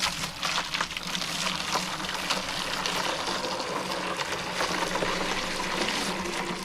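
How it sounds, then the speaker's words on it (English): Boiling hot water pours steadily into a sous vide container for cooking mini-season lobster, a continuous loud splashing rush lasting several seconds with no talking. "we're going to start off with some boiling hot water."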